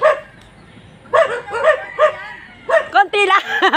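A large dog gives a run of loud, close barks in two bursts, the second rougher and more rapid, with quiet pauses in between.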